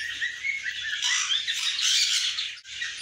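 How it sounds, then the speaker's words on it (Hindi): A sun conure kept in a three-foot cage gives loud, harsh squawking calls almost without a break, close by, with a brief dip near the end. "3 फीट की केज में इन्होंने सन कन्यूर रखा है"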